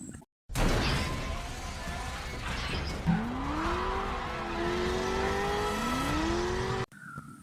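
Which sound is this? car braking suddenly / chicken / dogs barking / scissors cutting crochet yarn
car braking suddenly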